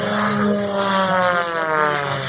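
A 330-horsepower aerobatic airplane engine runs steadily and loudly, with a continuous propeller drone and layered harmonic whine and no pauses.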